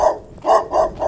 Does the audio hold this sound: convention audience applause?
no